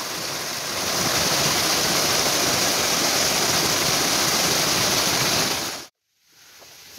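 A waterfall pours into a stream in a village setting, a loud, steady broadband roar of rushing water that fills the scene without break, then cuts out abruptly near the end.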